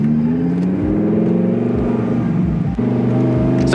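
Lamborghini Huracan Evo engine droning steadily from inside while driving, a loud, continuous rumble with a slight rise in pitch and a brief dip near the end.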